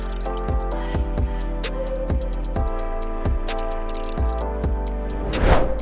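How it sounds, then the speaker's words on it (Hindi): Water splashes and drips in a rhythmic series of short bursts while a planted aquarium's water is changed, steady at moderate level over a continuous tonal background, ending in a louder rush of water. "So here I am once again continuing with the water change."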